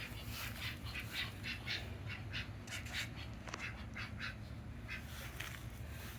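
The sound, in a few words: ducks quacking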